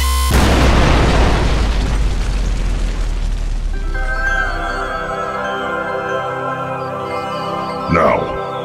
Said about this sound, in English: Then the Mayans blew it up.